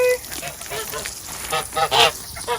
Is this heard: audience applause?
no